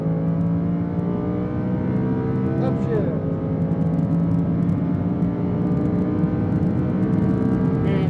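A Lamborghini Huracan on a racetrack accelerates hard, its engine a steady loud roar with rising pitch through the gears, one shift audible midway, while an instructor's voice talks over it throughout.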